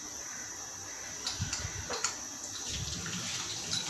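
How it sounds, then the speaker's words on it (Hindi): A running water tap while hands are washed in a home kitchen during chicken roast preparation, a steady moderate stream with faint splashes and soft background chirping. "मैं ज़रा हाथ धो लूँ"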